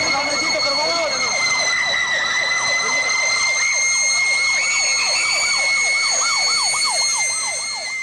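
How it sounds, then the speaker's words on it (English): Several emergency sirens wail at once, rising and falling in overlapping cycles with steady high tones, loud and continuous across an urban soundscape. "Sirens here and there, all over the city."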